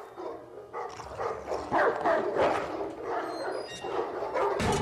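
Hounds barking in a Game of Thrones scene, a pack of dogs yelping and baying repeatedly, fairly loud and continuous with overlapping barks.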